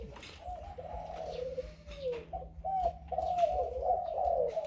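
Caged doves coo up close in a steady run of soft, rolling calls that overlap and repeat without pause, with faint background noise and no talking.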